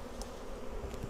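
Disturbed honeybees buzzing around an opened Flow Hive during a split inspection, a close, continuous agitated hum with a few brief higher-pitched whines passing by.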